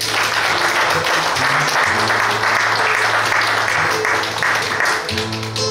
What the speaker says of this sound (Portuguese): Agora palmas vocês vão dar para o cantado da esteira.